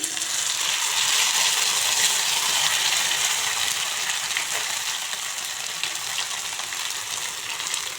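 Green chilli paste hits a frying pan already holding panch phoron, a bay leaf and dried red chillies, giving a loud, steady, even sizzle that carries through without a break and fades only slightly toward the end.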